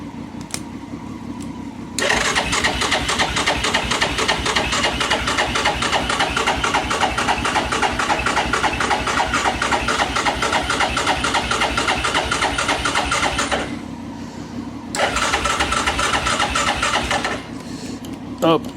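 A Yamaha Grizzly 660 ATV that sat unused for eight years cranks and catches, then runs loud and steady with a rough, rapid mechanical chatter, drops briefly, and revs up again before cutting off.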